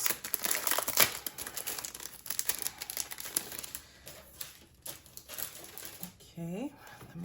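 A pack of budget binder envelopes being handled, with soft crinkling and rustling of plastic and paper, close and quiet, continuing for several seconds.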